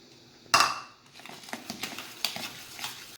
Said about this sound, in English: Now I am going to add some flour to the batter and start mixing.